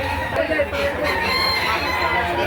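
A rooster crows at an outdoor chicken market, a loud drawn-out call over a busy background of clucking fowl and crowd murmur.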